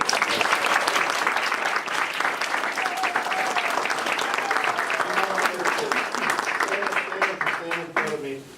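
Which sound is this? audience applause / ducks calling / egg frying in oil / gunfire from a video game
audience applause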